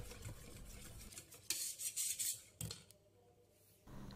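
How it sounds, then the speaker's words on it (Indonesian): Cake batter of flour and cornstarch for kue talam ketan gula merah being stirred in a bowl, soft scraping strokes in two bursts with quiet pauses between. "Lalu kita aduk hingga semuanya tercampur dengan rata."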